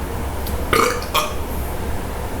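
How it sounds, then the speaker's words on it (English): A person burps twice in quick succession, two short, raspy bursts close to the microphone over a steady low background hum, with no talking. "Every time you burp"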